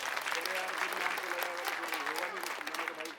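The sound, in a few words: applause for party workers at rally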